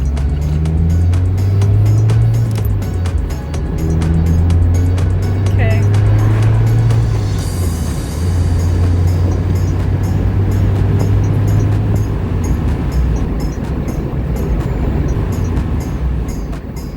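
A Mazda MX-5 ND with a manual transmission drives along, its engine droning steadily with audible gear-related pitch changes and road noise, while a person talks over it throughout.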